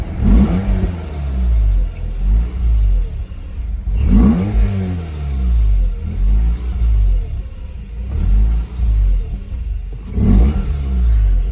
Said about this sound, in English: I'm basically holding on the throttle right now just a tiny bit.